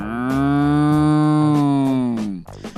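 One cow gives a long, loud, sustained moo of nearly two and a half seconds. It sounds close and full, then ends abruptly and is followed by a few brief clattering noises.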